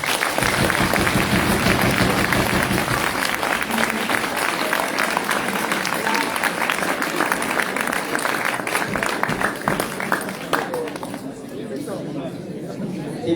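Audience applause fills an amphitheatre at a school eloquence contest final, sustained and dense throughout, with crowd chatter mixed in, easing slightly toward the end.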